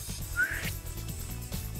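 A person whistles a single rising note outdoors on a patio to call a pet crow, the whistle brief and clear over steady background noise.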